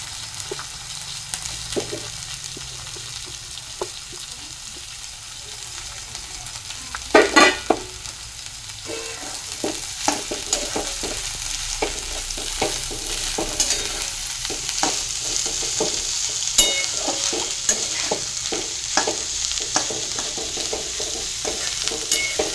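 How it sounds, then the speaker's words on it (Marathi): Dingri mushrooms stir-frying in a pan with sautéed onion and crushed garlic: continuous loud sizzling with frequent spatter pops and stirring clatter, close up and without speech. "आता आपण डिंगऱ्या घालूया त्यात।"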